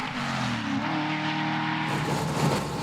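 Barra-engined muscle car launching hard at a drag race shootout, a loud, steady, near roar sustained throughout, its pitch shifting and roughening toward the end as the car pulls away.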